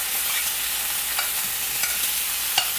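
Sausages sear in a hot pan for bangers and mash, a loud, dense hiss of fat sizzling with a few sharp spits and pops, no speech.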